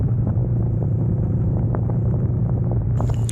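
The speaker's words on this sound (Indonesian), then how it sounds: "saya coba di kecepatan 60 kpj ini sangat lumayan berisik dan mengganggu sih suara anginnya" Loud, steady wind roar inside a KYT TT Course Rhino full-face helmet with its vents open, riding at 60 km/h, a dense low rumble with a slight brightening near the end.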